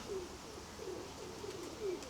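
A rock dove coos softly from some distance, a few faint, low, repeated calls over a quiet background.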